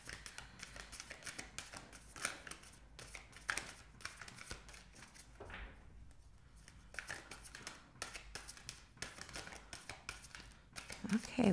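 Soft, rapid papery riffling and flicking of tarot cards being shuffled close by, quiet and continuous with brief pauses.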